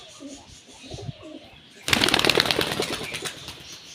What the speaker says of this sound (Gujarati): તો જો આપણું કબૂતર ઉડી ગયું છે,